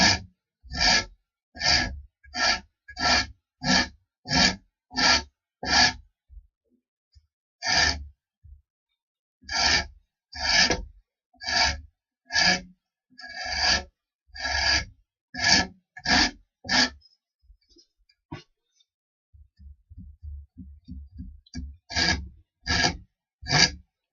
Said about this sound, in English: so I use a rasp very carefully.